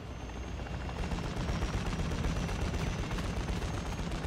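Rapid, dense bursts of gunfire in a DMZ mode match, loud and continuous with sustained automatic firing throughout, no talking.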